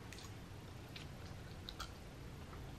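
Close, crisp chewing and crunching of a Swiss chocolate treat studded with cacao crispies, soft crackles and bites scattered over about three seconds with no talking.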